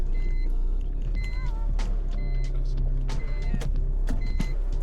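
Inside a Nissan Primera P11 fitted with Maxpeedingrods T6 coilovers on a test drive, a steady low road and engine drone runs beneath scattered clicks, rattles and short tonal chirps.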